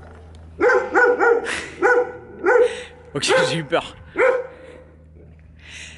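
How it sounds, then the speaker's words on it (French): Big dog barking close by in a run of deep, loud woofs at a steady pace, with a person speaking briefly between barks. "Mais le chien est gros."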